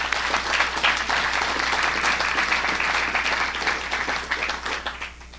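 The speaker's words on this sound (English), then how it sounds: "I frankly think that we should all applaud their efforts" An audience applauds at a Cinco de Mayo event, a dense, steady wash of many hands clapping at once that holds loud and even before easing slightly at the end.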